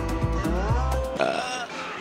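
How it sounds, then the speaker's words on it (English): At a beer and barbecue festival, a person gives a drawn-out, guttural burp on request as a beer fart impression, loud and close to the microphone, ending in a short grunting tail. "Can you give us your best impression of a beer fart, please?"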